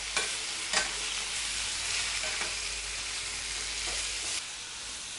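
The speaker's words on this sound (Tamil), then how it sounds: "இது நல்லா வதங்கட்டும். 5 மினிட்ஸ் வந்து சிம்மில் வச்சுட்டு நல்லா வதக்கிக்கோங்க." Native tomatoes sautéing in a pan for a tomato kurma: a continuous soft sizzle with a few spoon scrapes and stirring knocks, close and fairly quiet, no speech.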